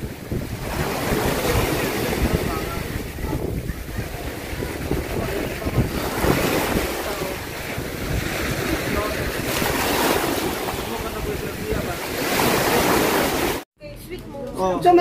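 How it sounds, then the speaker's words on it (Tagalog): Strong sea waves at the shore, a loud continuous surf wash with heavy wind buffeting the microphone and people talking over it. "Yung kusog na lagi baod."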